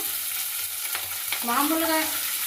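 Green chillies drop into a hot pan for a Navaratri offering of curd rice, setting off a steady sizzle that swells after a couple of clicks and stays loud to the end, with no talking.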